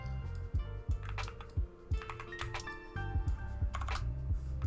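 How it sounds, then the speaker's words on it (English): Keys on a computer keyboard fitted with custom keycaps clatter in quick, uneven bursts of sharp clicks and taps, close and fairly quiet, with short pauses between runs of typing. "I like the typing sounds it provides and stuff like that."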